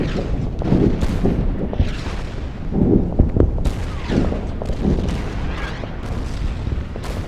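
Artillery shells burst again and again in the World War II strategy game Order of Battle: Winter War, a steady run of heavy, rumbling booms and crackling blasts layered over each other for several seconds.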